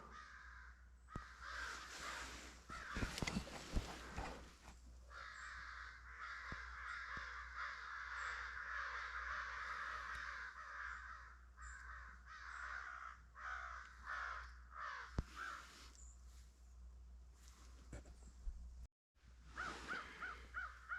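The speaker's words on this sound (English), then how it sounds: "That's called a murder of crows." Several crows caw repeatedly outdoors during a goose hunt, in harsh, overlapping calls, some near and some farther off, continuing for a long stretch with brief pauses.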